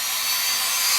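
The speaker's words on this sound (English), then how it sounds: "I'm just going to have a tiny little drill this time." Small cordless drill boring into wood, a loud continuous high-pitched whir and grinding hiss, close up for about a second.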